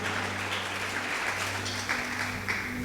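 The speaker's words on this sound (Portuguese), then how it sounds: "Dá um forte aplauso para o Senhor." A church congregation applauds during a worship service, a moderate wash of clapping over a steady low organ-like hum.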